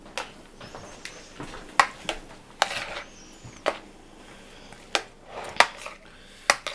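Chopped vegetables, including red sweet onions, being stirred in a bowl: irregular clacks and scrapes of a utensil against the dish, sharp hits spaced about half a second to a second apart, faint background otherwise.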